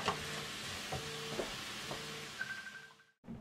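Three bay leaves cook over low heat in a pan with a soft, steady sizzle, interrupted by a few scraping stirs before a brief pause near the end.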